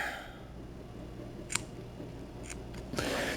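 Scissors trimming fabric for a pair of shorts give a few faint, brief snips spaced apart, over a low steady room hum.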